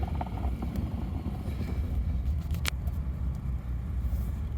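A 2022 Nissan Frontier 4x4 fitted with snow socks climbs a snowy hill, its engine a steady, close low rumble with faint crunching and no talk.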